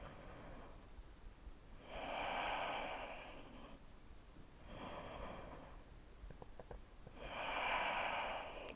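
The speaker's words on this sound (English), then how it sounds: "hold here, engaging the core for 5 deep breaths. Really breathe into the belly." Slow, deep breaths during a yoga practice session: three long, soft, breathy swells of air, each lasting about two seconds, with quiet pauses between them, close and fairly faint.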